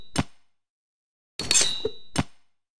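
Three sharp metallic sword hits built from scratch as a processed effect: a crisp clang, a pause, a longer ringing scrape with a bright tone, then a final clean strike, each loud and close with silence between.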